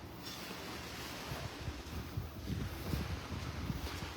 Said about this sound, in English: That breeze is starting to kick in.